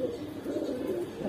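Giribaz pigeons coo in a low, rolling drone, soft and close, with no other sounds breaking through.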